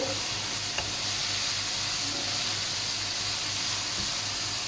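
Bottle gourd halwa cooking in a pan on a medium flame, giving a steady, close sizzle and hiss throughout, with a few faint spoon scrapes and clicks as it is stirred.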